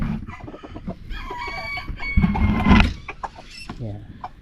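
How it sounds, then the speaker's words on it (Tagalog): A fighting rooster clucks in short, close bursts and lets out a strained crow, with creaking and rattling of a cage and other fowl sounds around it. "Ito naman yung ating manok na pang sabong."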